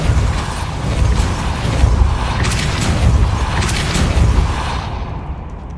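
A Depulso spell cast in the video game Hogwarts Legacy, a loud forceful whooshing burst with booming low rumble that swells and fades over several seconds.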